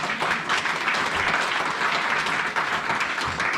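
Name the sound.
congregation applauding in church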